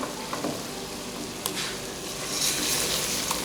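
Mangochiyan sizzle gently in masala in a pan, a steady crackling fry with soft stirring scrapes, close and continuous.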